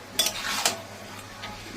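Spices for chicken curry fry in a pan under a soft sizzle, with a couple of sharp scrapes and clinks from a spoon stirring against the metal, close by and fairly quiet.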